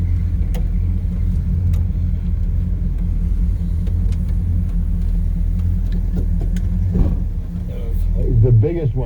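A Dodge Coronet R/T with its 440 V8 rumbles low and steady while driving, a deep continuous drone heard from inside the car with a brief swell near the end and a voice over it.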